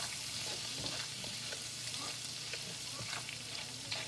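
Garlic sizzling and frying in a pan on low heat for lobster tail, a steady, soft crackle with small pops, close and continuous, no talking.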